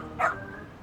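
A dog in the video game Lost Judgment gives a single short bark, clear and close, with faint ambient game sound around it.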